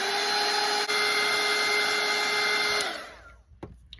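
A hair dryer blows steadily and loudly, drying a watercolor lighthouse painting, its motor whine holding constant for nearly three seconds before switching off and winding down, followed by faint handling sounds.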